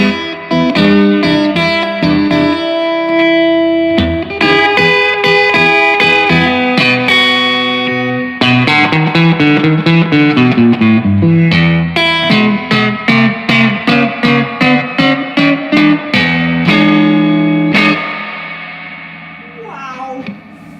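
Electric guitar played through a Fender 1966 Deluxe Reverb tube amp with reverb set on 4, chords and picked notes ringing out, ending in a fading tail.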